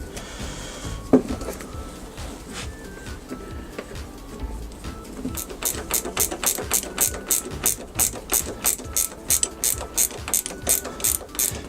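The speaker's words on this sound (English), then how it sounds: "If you can get a set of ratchet spanners, I highly recommend them." A ratchet spanner turns a nut on the brake lever of a Suzuki GSX600F Katana motorcycle, giving a fast run of crisp, regular clicks close up that start partway through after quieter handling noises.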